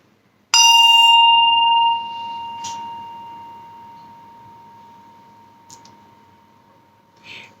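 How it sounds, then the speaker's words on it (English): A bell struck once with a stick rings out loud and clear, its bright tone sustaining and slowly decaying, with a few faint clicks later on. "It's the same bell, it's the same stick"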